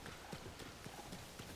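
Horse hooves clip-clop in Tears of the Kingdom, a quick run of moderately loud hoofbeats in an uneven rhythm over a continuous game background.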